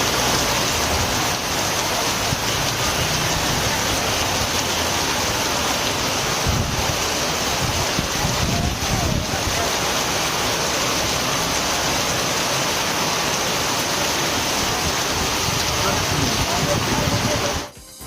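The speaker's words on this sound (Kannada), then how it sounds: "ಕಳೆದ ವಾರದಿಂದ ರಾಜ್ಯ ರಾಜಧಾನಿ ಸೇರಿದಂತೆ ಹಲವು ಕಡೆ ಮಳೆಯಾಗ್ತಾ ಇದ್ದು" Heavy rain pours steadily with wind across a city, a loud, unbroken hiss of falling water that continues throughout before cutting off at the very end.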